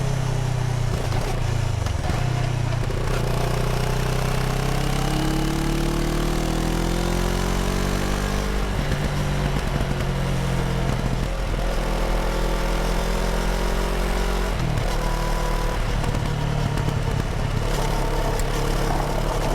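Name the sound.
CFMoto 650 ADVentura motorcycle engine while riding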